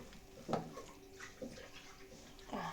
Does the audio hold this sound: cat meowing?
no